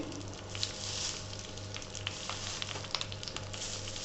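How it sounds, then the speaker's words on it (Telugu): Curry leaves fry in a pan with a steady, close hiss and sizzle, broken by scattered sharp crackles and pops throughout, no voices present. "ఇలా ఫ్రై చేసుకుంటున్నాను కరివేపాకు"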